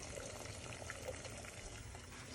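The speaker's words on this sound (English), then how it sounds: "So the pot is boiling guys." A pot of water boiling on the stove for Jamaican cornmeal porridge, a steady low bubbling hiss that runs evenly through the whole stretch with no talking.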